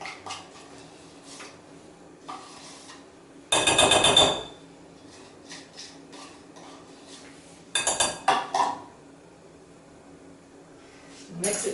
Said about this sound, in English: I'm just gonna scrape out the carrots that are stuck in there.